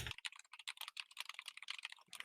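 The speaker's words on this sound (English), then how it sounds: "Someone's typing viciously." Fast, forceful typing on a computer keyboard rattles close to a sensitive microphone, a dense run of sharp key clicks in quick irregular bursts with no talk.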